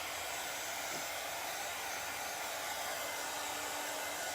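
A hair dryer blows steadily on freshly applied chalk paint, a loud, continuous whooshing hum held close for several seconds with no talking.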